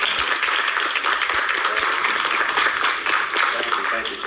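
An audience applauds the keynote speaker at a Martin Luther King Jr. event in Livonia, a dense, continuous burst of clapping throughout, with some voices mixed in.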